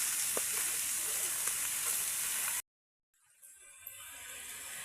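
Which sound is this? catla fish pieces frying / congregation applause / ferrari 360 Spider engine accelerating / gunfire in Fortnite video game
catla fish pieces frying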